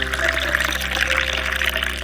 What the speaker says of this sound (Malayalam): ഡിസ്പ്ലേക്ക് വേണ്ടി ജ്യൂസ് ഒഴിക്കാം.